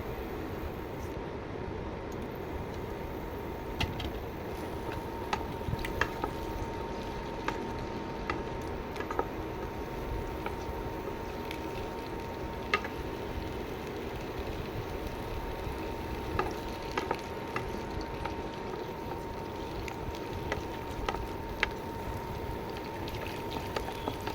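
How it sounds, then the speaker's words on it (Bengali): Eggs frying in hot oil in a pan for Bangladeshi egg korma, giving a steady, continuous sizzle with faint crackles throughout and no talking. "তেলের মধ্যে দেখতেছি তেলটা গরম হয়ে গিয়েছে। এখন আমি ডিমটা ছেড়ে দিব।"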